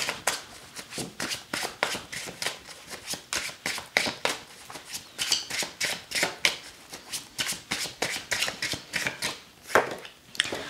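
Tarot cards are shuffled and drawn by hand, a steady run of crisp riffling and sliding card flicks repeating close up for about ten seconds with no talking.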